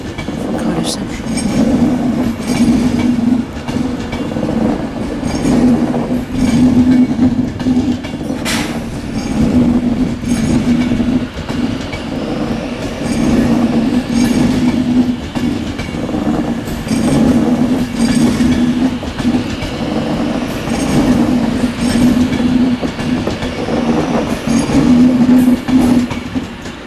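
An electric passenger train pulls out of Manchester Piccadilly for London Euston, with loud continuous rumbling and a steady rhythmic clatter of wheels over rail joints, plus a brief squeal partway through. A voice talks faintly beneath it.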